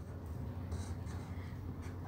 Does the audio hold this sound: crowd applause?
no